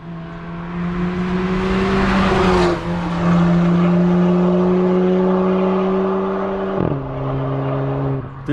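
A loud 1999 Mustang GT engine drones steadily at high revs, with a brief dip and pitch change midway, holding a strong sustained roar.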